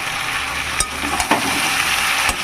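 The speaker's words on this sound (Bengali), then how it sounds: "এবার ভালো করে তেলের সঙ্গে কষে নেবো" Chopped jackfruit frying and being stirred in hot oil with browned onions, salt, turmeric and bay leaves, a steady close sizzle with a few sharp spatula scrapes against the pan.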